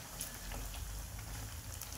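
Corned beef–stuffed tofu meatballs frying in hot oil give a steady, dense sizzle and crackle that holds evenly throughout with no talking.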